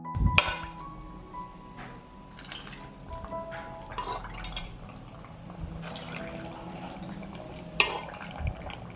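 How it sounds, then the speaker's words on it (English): Marinade poured over peppers packed in glass jars, with intermittent trickles, drips and small clinks of glass spread across several seconds, fairly quiet and close. "Pour the marinade to cover the peppers."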